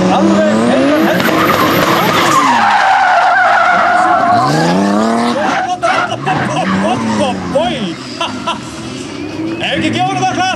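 A race car skids hard with loud, sweeping tire squeals that rise and fall through most of the stretch, close and continuous, over engine noise and a crowd's babble and commentary.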